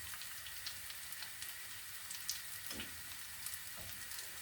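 Meat and leek sausages frying in a pan, a faint steady sizzle and crackle with scattered small pops throughout.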